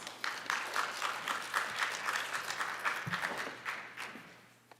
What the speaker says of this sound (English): So let's welcome Lisa with a nice round of applause.